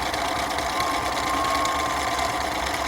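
A sewing machine runs continuously while satin stitching, a steady, close mechanical hum and rapid needle chatter for the whole stretch with no talking.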